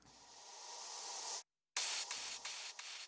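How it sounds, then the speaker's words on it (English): A filtered white noise sweep rises in a hissing swell, cuts to silence briefly, then bursts back with stuttering noise chops. "Some white noise sweeps, some splashes"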